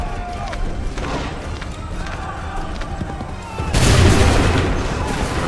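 A massed volley of musket gunfire bursts out in Assassin's Creed 3 after a stretch of busy battlefield noise and scattered shots, a loud broad crack that rolls on as a sustained roar; voices are heard in the scene.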